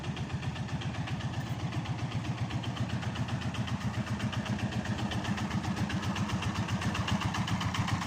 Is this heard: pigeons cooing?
no